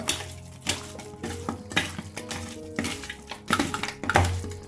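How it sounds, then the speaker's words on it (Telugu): Chicken pieces being mixed by hand with a spice marinade in a bowl, with wet squelching, scraping and dull clinks of the vessel in uneven close strokes and no voices. "ఇప్పుడు ఇదంతా మసాలా దినుసులంతా చికెన్ పట్టే విధంగా బాగా కలుపుకోవాలండి."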